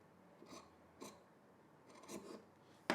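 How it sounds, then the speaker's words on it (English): Scissors trim the corners of stitched fabric at an angle during a garment sewing project, giving four quiet, separate snips spread across a hushed room. "now we're just going to trim the corners like that."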